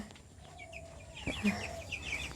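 Several broiler chickens clucking and making short calls nearby in a coop, with a brief thump partway through, in a fairly quiet enclosed space.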